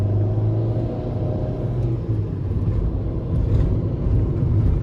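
A 2011 Fiat Fiorino Emotion van with a 95 hp 1.3 Multijet diesel and manual gearbox accelerating on the road, a loud steady cabin drone and rumble that swells slightly as throttle is applied.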